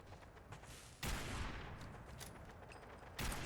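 Video game gunfire rattles in two loud bursts of rapid shots, with quieter crackling between them.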